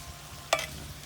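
Jalapeno and garlic sizzle softly in a cast iron pan, with a single sharp metallic clink of a stirring utensil midway through the short moment.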